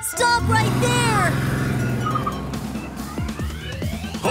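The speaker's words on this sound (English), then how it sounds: "Blue police car running wee-woo-wee-woo, running really fast to catch a donut thief." Cartoon police car siren in an animated children's song, a bright warbling wail over backing music with sung vocals, loud and close, followed by quick sweeping siren glides.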